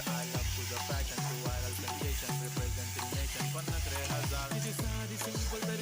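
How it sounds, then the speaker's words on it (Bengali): Bottle gourd peel paste is stirred in a wok, a rhythmic run of close spatula scrapes and knocks against the metal, repeating roughly every half second over a soft continuous sizzle. "দেখো এরকম করে কড়াইয়ে নেড়ে নেবে"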